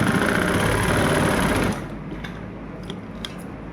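A sewing machine stitching a kurti seam runs loud and steady with a fast mechanical whir for about a second and a half, then stops, leaving faint handling clicks.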